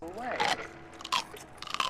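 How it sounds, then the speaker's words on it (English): Someone in a film eats with loud crunching bites, sharp bursts of chewing separated by short pauses, mixed with a voice speaking in the scene. "Hey, Mike, you think you could crunch any louder?"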